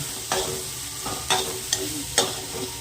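Sweet corn cobs roasting in oil in a pan give a steady close-range sizzle and fry hiss, broken by four sharp stirring scrapes spaced roughly evenly; no voices.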